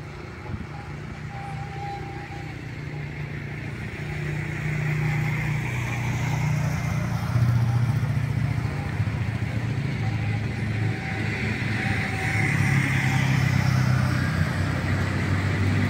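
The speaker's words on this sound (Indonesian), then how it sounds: "Terlihat ada kendaraan operasional" Operational vehicle passing at a railway tunnel construction site, its engine rumbling as a steady mid-distance drone that swells and lingers amid broad outdoor noise.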